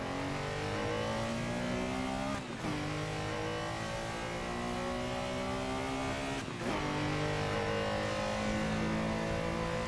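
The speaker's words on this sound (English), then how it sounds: "I love the shifting sounds in this car." Porsche Carrera RSR race car in the Assetto Corsa sim, its engine droning loud and steady under throttle, with two sharp gear shifts briefly breaking the tone before the revs climb again.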